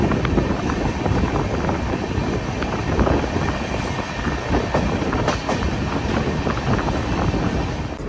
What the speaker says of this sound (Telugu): సో ట్రైన్ వాడి జంక్షన్కి అయితే వచ్చింది